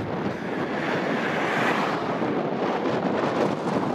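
Strong wind buffets the microphone outdoors in Slavonia, a loud, steady broadband roar that fills the whole stretch with no break and no voices.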